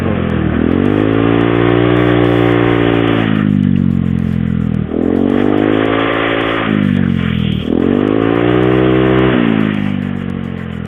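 A motorcycle with an AHM exhaust fitted with a CMS 0.5mm filter revs loud and close three times, each time rising then falling back to a rumbling idle.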